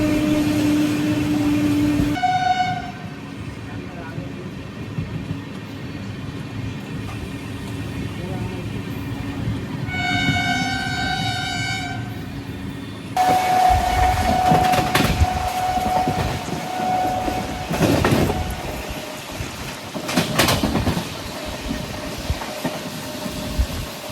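A Devagiri Express passenger train on the Mumbai CSMT–Lingampalli route runs through a station it skips, its wheels and carriages rumbling and clattering steadily, horn blasts sounding twice, with a voice talking over the noise from on board.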